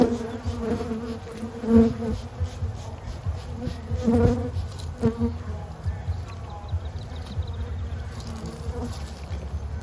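A swarm of honey bees buzzes steadily and densely throughout, swelling into a few louder, closer surges, with no talking.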